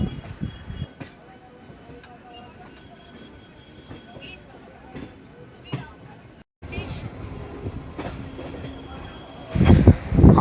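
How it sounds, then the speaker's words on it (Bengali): A Howrah–Tarakeswar local train pulls into Serampore station: a low, quiet rolling rumble with scattered clicks, a brief cut, then louder clattering and sharp wheel squeals rising toward the end. "আমাদের ট্রেন এসে পৌঁছালো শ্রীরামপুর স্টেশন"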